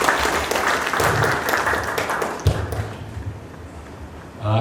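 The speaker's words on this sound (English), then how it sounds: "So with a huge round of applause" Audience applause welcoming a guest speaker at a business plan competition boot camp, a dense wash of clapping that rises and thins out over a few seconds, with a thump and a brief stir of voices near the end.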